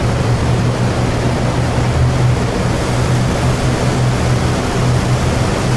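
A warbird's piston engine powers up in the DCS World flight simulator, a loud, constant broadband roar with a steady low drone running underneath and no talk over it.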